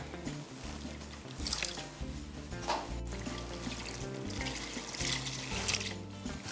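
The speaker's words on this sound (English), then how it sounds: "And then we're gonna add 2 cups of this heavy whipping cream." Heavy whipping cream pours into a bread pudding mix of whole milk and bread as a soft, continuous liquid glug and squish, faint and close, with light background hum.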